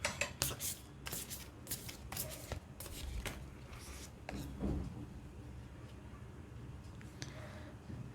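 Oracle cards shuffled by hand, a run of quick riffling, rubbing bursts in close succession, close and fairly soft, with no talk over them.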